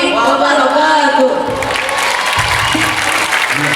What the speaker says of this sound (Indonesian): Tepuk tangan untuk penampilan dari beliau